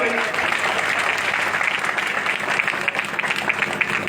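A crowd at a political rally in Maniar, Ballia claps loudly and steadily to welcome a guest, a dense, unbroken wash of applause that holds for the whole stretch with a voice faintly present beneath it.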